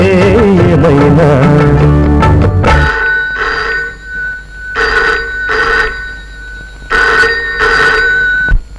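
A telephone rings in a home in loud, repeated electronic bursts, about four rings with short pauses between them, coming in just after music ends.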